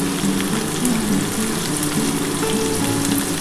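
Potatoes and drumstick pieces sizzle steadily in hot oil in a pan for a curry seasoned with salt, turmeric and a little sugar, with a continuous close frying crackle and no voices.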